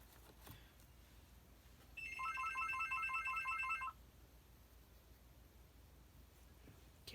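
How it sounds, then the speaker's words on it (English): A landline telephone rings in an indoor craft room, a bright warbling electronic ring held steadily for about two seconds before stopping, with quiet room tone before and after. "let it finish ringing"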